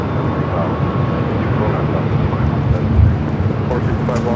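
An old ex-Northwest Airbus A319 jet rolls for takeoff on LAX runway 24 left, a steady broad roar building slightly toward the end, heard from a distance with wind buffeting the microphone.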